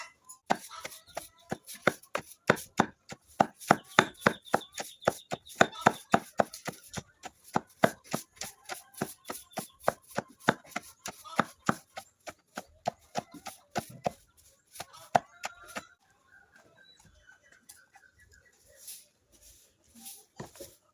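Bitter gourd being crushed by hand in Uganda, a long run of sharp rhythmic pounding strikes, close and loud, steady for about fifteen seconds before slowing into a few scattered softer knocks.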